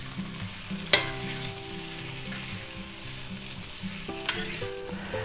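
Pre-cooked sliced steak with peppers, onions, salt, pepper and garlic powder sizzling steadily in a hot pan, with a couple of sharp scraping clanks of a utensil as the mixture is stirred.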